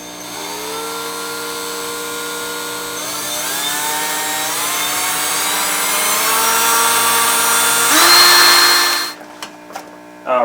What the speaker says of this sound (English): now I'm going to drill a hole for the air tubing. I'm using a 1/4 inch drill bit.